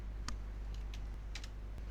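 Keys tapped on a computer keyboard while setting up a Telegram bot, a few quick scattered clicks over steady low hum, close and fairly faint.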